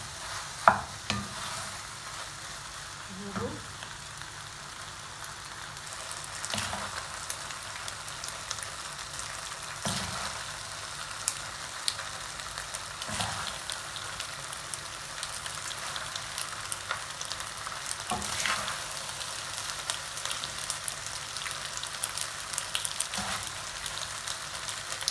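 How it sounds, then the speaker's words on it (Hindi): Macaroni with vegetables, chicken and green onion stirred and frying in a pan, a continuous soft sizzle broken by periodic scraping stir strokes and occasional clinks of the utensil, with no talking. "इसको मिक्स कर लेंगे, 1-2 मिनट तक आप इसको पकाएंगे।"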